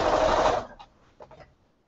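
A home sewing machine fitted with a Bernina bobbin runs in one short, loud burst of stitching, then stops with a few faint light rattles and clicks.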